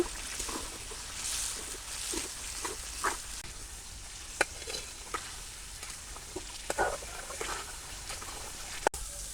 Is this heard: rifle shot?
no